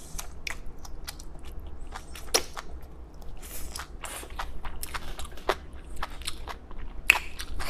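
Grilled chicken feet bitten and chewed close to the mic, with a series of sharp crunchy bites and wet chewing crackles spread irregularly through the stretch, no talk.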